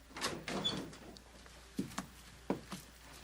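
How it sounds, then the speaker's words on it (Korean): A quiet door is pushed open with a few soft wooden creaks and light knocks, faint and close, a series of short scattered bumps over a low hush. "그는 이 조용함 속에 더 크게 노크할 용기가 나지 않아서 문을 밀었다"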